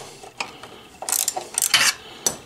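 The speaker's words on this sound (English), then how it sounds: "I'll use a ratchet wrench on one side" A ratchet wrench clicks in quick bursts while loosening bolts on a Honda Africa Twin CRF1000L during a crash bar install, close and sharp with short pauses between strokes.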